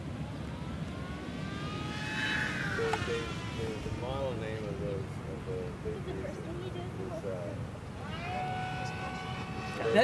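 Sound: radio-controlled model airplane engine

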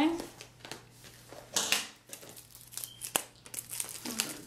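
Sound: cutting plastic wrap off a music album

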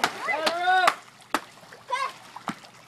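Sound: child swimming and splashing in a pool

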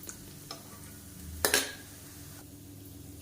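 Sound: frying in oil on medium heat

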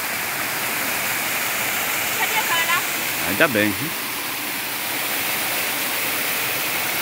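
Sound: Caripina waterfall in Felipe Guerra, Rio Grande do Norte

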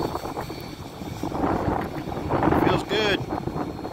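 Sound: wind blowing up on a tower

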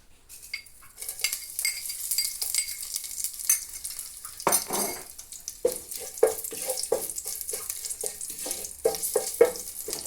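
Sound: curry leaves sizzling in hot oil

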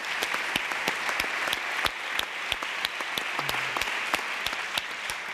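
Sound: audience applause at a library conference

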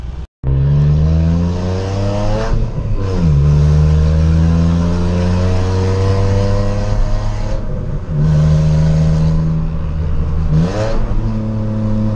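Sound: car exhaust revving with valve open

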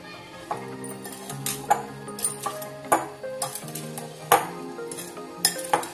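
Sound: stirring spices and oil into mixed vegetable pickle

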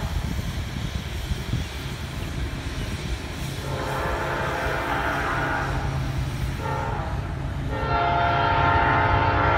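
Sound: Norfolk Southern train 221 passing with horn

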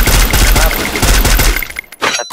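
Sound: gunfire headshot in video game Free Fire

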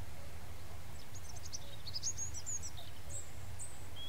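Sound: birds singing at night in the video game Mist Survival

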